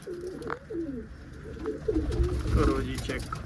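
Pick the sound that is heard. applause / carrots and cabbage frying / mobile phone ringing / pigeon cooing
pigeon cooing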